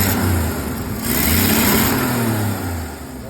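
A 1950s Chevrolet school bus engine with an exhaust leak runs close by, a steady rumbling drone that swells briefly in revs before settling back, with no talking.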